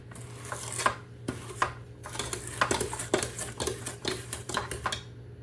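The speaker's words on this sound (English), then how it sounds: "I'm going to go ahead and scrape that down one more time" Mint chocolate chip cookie dough being scraped around a mixing bowl, with repeated close scrapes and knocks of a utensil against the bowl over a steady low hum, no talking.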